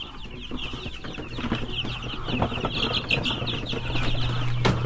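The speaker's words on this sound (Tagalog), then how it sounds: "At nandito yung aking mga manok na maliliit." Small young chickens clucking inside an uncleaned home coop, a continuous close chorus of soft clucks and peeps with occasional louder calls, growing slightly busier toward the end.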